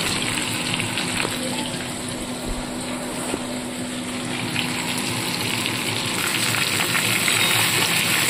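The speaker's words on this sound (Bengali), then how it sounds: "চিকেনগুলো ততটুকুই ফ্রাই করব যতক্ষণ না এর কালারটা একটু চেঞ্জ হয়।" Chicken pieces frying in hot oil for a Dhaba-style dish, a steady, dense sizzle that holds at an even level throughout, close up with no talk.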